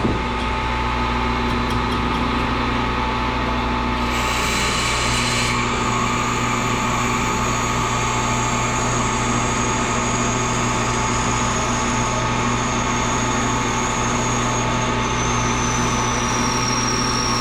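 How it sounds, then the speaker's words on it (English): A drill boring a 17/64-inch hole runs continuously with a loud, steady mechanical whine and hum, its pitch shifting slightly as it bores, with no voices. "Go ahead and drill this. We're drilling 17/64."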